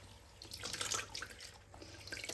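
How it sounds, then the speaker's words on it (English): Freshly dyed yarn being rinsed under running water at a sink, a soft continuous splashing and trickling close by, with no talk over it. "I'm just gonna give it, ooh, gently, give it a little rinse."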